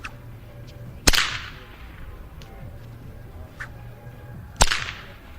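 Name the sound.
long blue whip cracking in a plaza with echo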